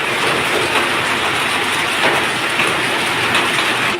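A downpour at a canal-side garden house in Thailand, steady and loud, a thick wash of drumming rain that swells slightly now and then, with no one speaking.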